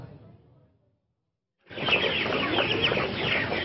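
Chickens clucking on a poultry farm in Gazipur, a dense busy chorus of clucks and flutters starting abruptly after a brief quiet, with faint speech at the very start.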